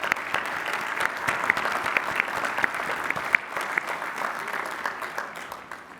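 Commencement audience applauding new Doctors of Education and Doctors of Philosophy at Lehigh University's spring ceremony: steady, sustained clapping from a large crowd in a hall for about six seconds, fading slightly at the end.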